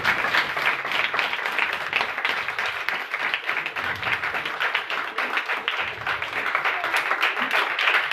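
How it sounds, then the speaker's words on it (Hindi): Congregation at a church service claps loudly for Jesus, steady dense applause throughout with some voices mixed in. "यीशु के लिए जोरदार तालियां बजाएं।"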